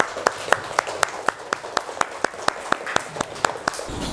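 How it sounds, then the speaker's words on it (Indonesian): A single person claps in a steady, even rhythm, about sixteen crisp claps close by, for a pupil in an Islamic religious lesson who has memorised Surah An-Nasr. "Kasih tepuk tangan untuk Ananda Fawaid"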